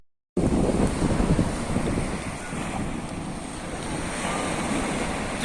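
Sea waves breaking on a beach with strong wind buffeting the microphone, a steady loud surf wash that holds from start to finish after a brief silent opening.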